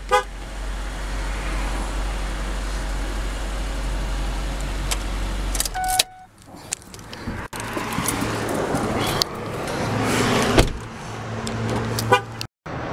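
A 2008 Ford Edge runs at a dealership, its engine holding a steady low hum before cutting out. After that come door or mechanical clunks, a short horn toot and further idling.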